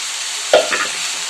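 Soaked toor dal dropped into a sizzling onion tempering, a steady fry hiss broken by one sharp splashing burst with a short clatter that settles back into the sizzle.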